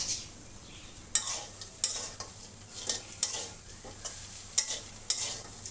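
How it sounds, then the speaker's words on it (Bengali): Vegetable noodles with capsicum and packet seasoning are stirred in a frying pan: a string of sharp spatula scrapes and knocks over a low, continuous sizzle. "এবার ভালো করে 1 মিনিট নেড়ে চেড়ে কুক করে নেব।"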